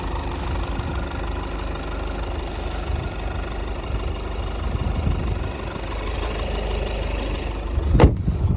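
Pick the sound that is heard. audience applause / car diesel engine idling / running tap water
car diesel engine idling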